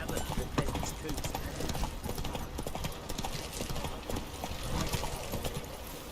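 Roach the horse gallops in The Witcher 3, a steady rapid clip-clop of hooves running throughout over busy game ambience, with voices talking at times.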